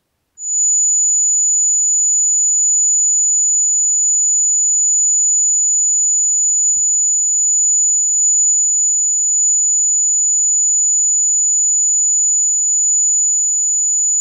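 A steady, piercing high-pitched test tone held at 6,936 Hz for cymatics, sounding continuously and loudly with no pauses, plus a faint lower hum beneath it.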